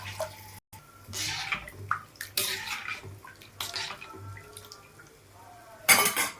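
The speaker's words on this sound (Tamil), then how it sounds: "தேவையான அளவு தண்ணி ஊற்றிக்கலாம்." Water is poured into a pot of pink fish curry gravy with tamarind water and chili powder, several close splashing pours and gurgles with clinks of the vessel between them.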